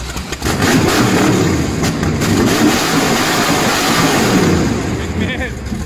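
Car engine in a video game roars at high revs in a loud, sustained drone with slight fluctuations throughout.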